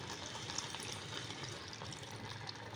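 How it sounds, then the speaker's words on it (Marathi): Water pours into a pot of khapli wheat kheer made with jaggery and grated coconut, a soft continuous trickling splash heard faintly and close. "आवश्यकतेनुसार आपण थोडंसं त्यामध्ये पाणी घालणार आहोत."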